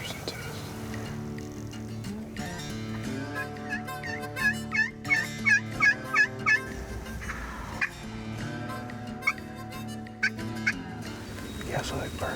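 Wild turkey gobbling in the spring woods during a turkey hunt, a bird roughly 120 yards out, heard as a quick run of rattling gobble notes over a low steady background, with quiet voices talking.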